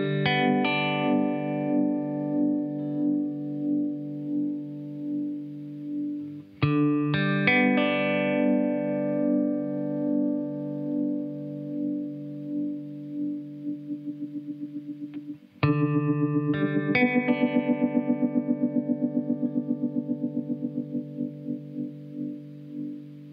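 An amplified guitar chord wobbles under an EarthQuaker Devices The Depths modulation pedal whose rate sweeps from about 1 Hz sway to a quick flutter, repeated over several sustained strums.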